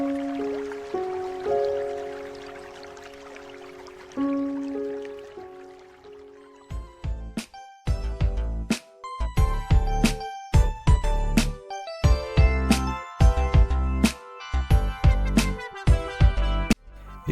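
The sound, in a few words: water flowing in a cement water fountain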